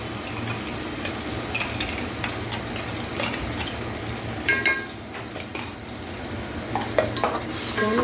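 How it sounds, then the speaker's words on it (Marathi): Onions fry in a pan for a prawn biryani as ginger garlic paste goes in, a steady close sizzle broken by stirring clatters and scrapes. "तर मी ही आले लसूण पेस्ट तयार केली ती घालून घेते."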